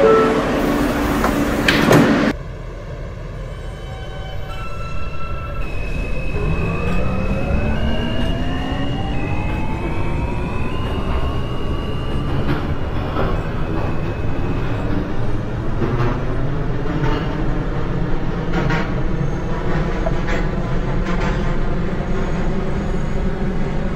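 In an OpenBVE simulator, an R160A subway train on the L line closes its doors with a short chime and thud, then departs. Rising electric motor whine climbs steadily in pitch while the car rumbles loudly and continuously beneath it.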